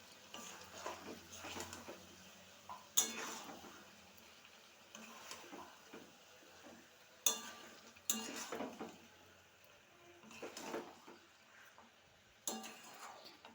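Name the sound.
stirring spices in a kadai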